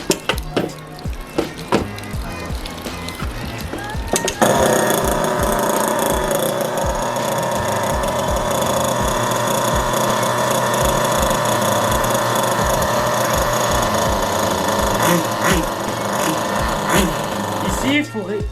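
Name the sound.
Kyosho Inferno Neo nitro RC car engine starting and running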